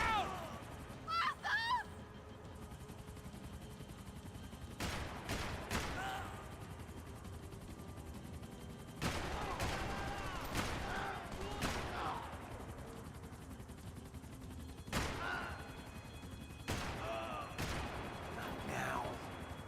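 Sharp gunshots from the video game Max Payne, scattered single blasts and short bursts with quieter game ambience and faint voices between them.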